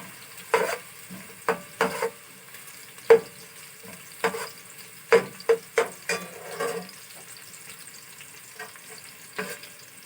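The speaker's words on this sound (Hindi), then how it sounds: "अब ये थोड़ी सी इसको ब्राउन होने देंगे प्याज को।" Onions frying in a pan for matar pulao, with occasional stirring scrapes and clatters over a soft, steady sizzle, close and moderately loud, with no talking.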